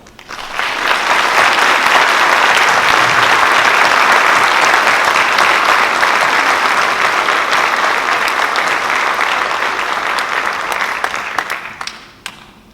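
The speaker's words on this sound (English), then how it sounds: "Please join me in applauding their efforts." Crowd at a police academy graduation ceremony gives a long, loud, sustained round of applause that swells quickly, holds dense and steady for about eleven seconds, then tapers off into scattered final claps.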